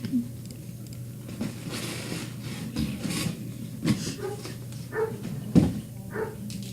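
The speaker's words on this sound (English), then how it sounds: "We have some dog outside barking" A dog barks faintly in the distance, a few scattered yaps over a low, steady indoor hum with occasional rustling.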